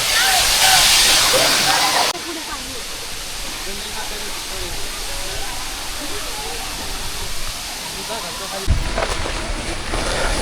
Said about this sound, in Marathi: तिकडे आपल्याला तो हा धबधबा बघायला भेटेल